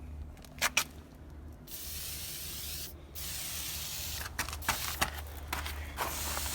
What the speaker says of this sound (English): get my silicone lubricant again, and I'm just going to lube this up really good